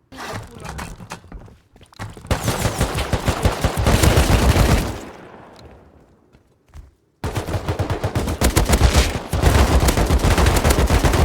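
Rapid bursts of automatic gunfire from MP5 and AK weapons in a Rust snowball match, loud and dense, with a brief lull midway before heavy firing resumes.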